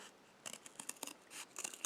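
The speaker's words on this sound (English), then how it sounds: "Again, cut another one carefully and delicately. We cut it using scissors" Scissors snip through a plastic milk bag in a series of quick, close, crisp cuts with short pauses between them, faint and quiet with no talking.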